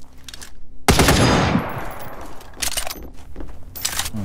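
Gunfire from a scoped 8x sniper rifle in the survival shooter The Front: one loud, close shot rings out with a long decaying tail, followed by two further bursts of shots with quieter game ambience between them.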